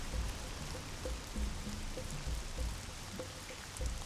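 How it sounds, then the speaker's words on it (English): Rain falls in the video game Animaniacs: The Great Edgar Hunt, a steady hiss of drops on surfaces with soft patters and plinks, continuous and moderately loud with no talking. "It rained!"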